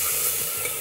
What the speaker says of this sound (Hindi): और अब हम इसके अंदर चॉप किया हुआ अनियन डालेंगे और इसको कुछ देर के लिए पकाएंगे।